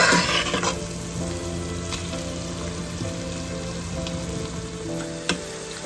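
Chopped onions sizzle in oil in a pan for a soya chunk dry fry, a steady close crackle and hiss with occasional stirring scrapes, no voices.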